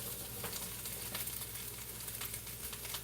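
Green beans stir-frying in a very hot pan, a dense, steady sizzle with faint crackles throughout, close and loud, with no voices.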